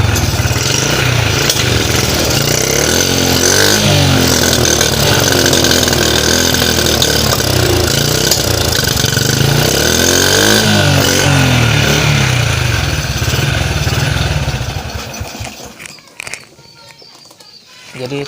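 A motorcycle engine with suspected worn piston rings runs loudly and steadily at close range, a continuous rough mechanical drone that fades toward the end as outdoor background noise takes over.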